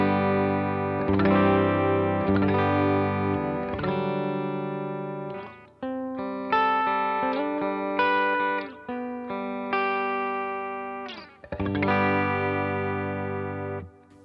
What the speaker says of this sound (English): here is my clean tone with a little bit of reverb from the BigSky.